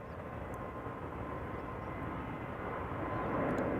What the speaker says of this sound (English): Boeing 737-800, KLM flight 1127 going to Copenhagen.